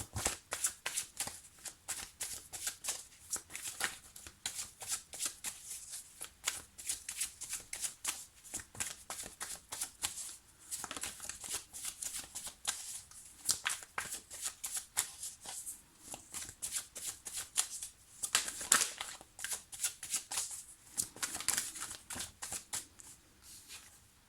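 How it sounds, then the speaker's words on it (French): Petit Lenormand cards being shuffled at close range, a steady stream of crisp riffling and slapping card sounds, loud and dense throughout with no voice over it. "je vais sortir 3 cartes pour les 3 mois à venir"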